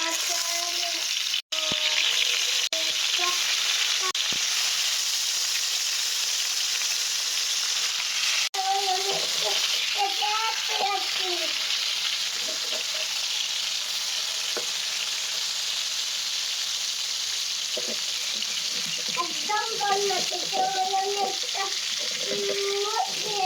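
Fish frying in a home kitchen, a loud, steady hiss of sizzling oil throughout, with a sharp knock near the start and a voice speaking faintly over the sizzle in the middle and near the end.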